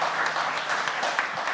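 Audience applause for a panel discussion on city affordability, a dense, steady clatter of many hands clapping at moderate volume throughout.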